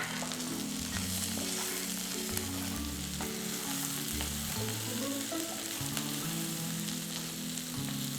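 Uncooked, unwashed rice frying and turning golden in an overfilled pan, a steady close sizzle with stirring scrapes throughout, no talking.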